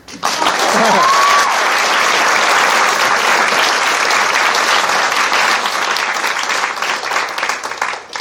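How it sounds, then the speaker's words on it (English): A loud, dense round of applause from a school band audience honors their director, Mr. Murphy, sustained heavy clapping from a large crowd with a brief whistle early on. "Can you clap for him?"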